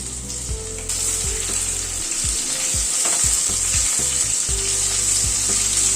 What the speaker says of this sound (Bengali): মিষ্টি আলুটা একটু নেড়ে দিলাম। মিষ্টি আলুটা ভাজা হয়ে এসছে।